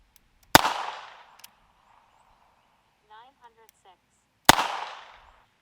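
Two sharp, loud gunshots of CCI standard rimfire ammunition from an unsuppressed gun ring out several seconds apart, each followed by a short decaying echo, with a faint brief voice between them.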